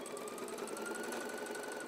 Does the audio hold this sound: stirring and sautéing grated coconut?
no